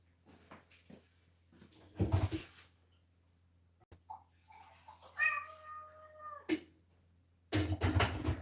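A house cat meows a drawn-out, wavering call near the middle, between a few louder bumps and rustles, in a quiet indoor room.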